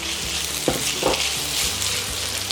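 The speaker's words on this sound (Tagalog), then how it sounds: "Ilalagay ko na yung aking shrimp" Shrimp dropped into a pan of frying potatoes for a salted egg and shrimp empanada filling, producing a close, steady sizzle with a couple of sharper bursts as the pieces hit the hot oil.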